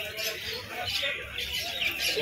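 Pigeons at the Birnagar pigeon market coo and chirp faintly amid a dense, hissy market ambience, with a steady bed of background noise and no clear single voice.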